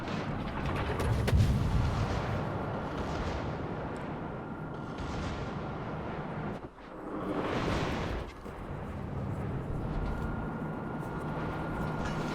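Heavy naval guns of the cruiser Tallinn boom in a video game, several loud, rumbling broadside blasts rolling over a continuous low battle din.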